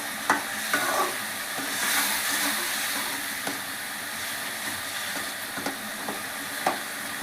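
Tamarind mixture with jaggery frying in oil for tamarind rice: a continuous close sizzle and hiss, with occasional sharp clinks and scrapes of a spoon stirring the pan.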